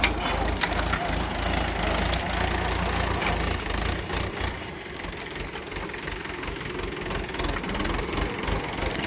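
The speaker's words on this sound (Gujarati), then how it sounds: "હવે આ ટ્રેક્ટર લઈને લઈ જાય એ બાજુ." A tractor engine chugs steadily in a dark farm field at night, a continuous close rumble with knocking pulses and faint background noise throughout.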